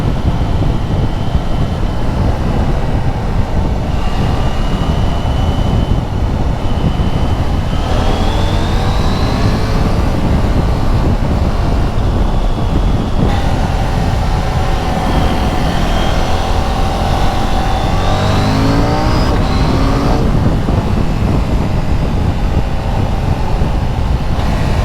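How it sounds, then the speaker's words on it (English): A Husqvarna Svartpilen 801 motorcycle engine with standard exhaust revs repeatedly, pitch rising and falling as the throttle is wound on, loud and close with steady broadband noise throughout. "you can hear a little bit of an aggressive tone as you wind the throttle on"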